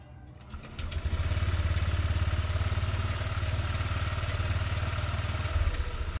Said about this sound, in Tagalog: papaanda rin muna natin yung motor ng 10 minutes